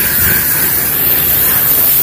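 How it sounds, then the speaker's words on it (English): Water from a garden hose sprays hard onto a moldy, algae-covered fence and concrete back patio, a loud, steady broadband hiss right at the nozzle with no pauses and no voices. "I have a garden hose and I'm wetting the surface"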